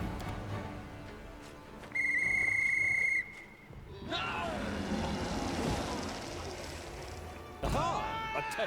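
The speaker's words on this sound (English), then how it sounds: "Pulling a whistle decorated with runes from his pocket, the dwarf brings it to his lips and produces a high-pitched trill." A high-pitched trill from a rune-decorated whistle blown by a dwarf in the video game Pathfinder: Wrath of the Righteous, one bright sustained tone lasting about a second over game music and ambience.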